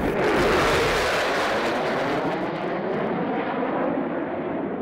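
A US Air Force B-1B Lancer bomber passes overhead with a loud, broad jet-engine roar that slowly fades and softens, with no one speaking.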